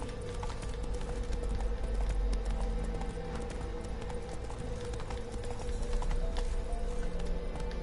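A horse gallops in The Witcher 3: Wild Hunt, a continuous rapid clip-clop of hooves running close over a low rumbling bed, steady and unbroken without speech.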